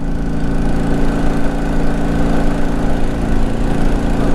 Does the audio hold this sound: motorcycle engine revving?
yes